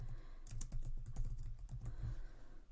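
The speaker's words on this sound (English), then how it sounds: "So I'm gonna type the text in here." Rapid keystrokes on a computer keyboard, a steady run of clicks and taps close to the mic, with no voices.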